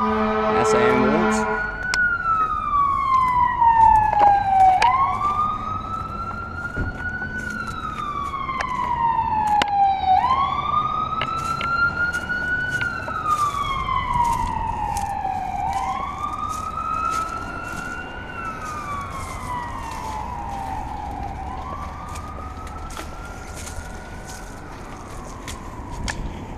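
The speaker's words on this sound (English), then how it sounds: "That's the ambulance." An ambulance siren wails in long rising and falling sweeps that repeat about every five seconds, loud at first and easing slightly as it carries on, with a voice briefly heard beneath it.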